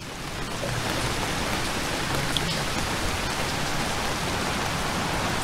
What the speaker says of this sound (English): So that is rain.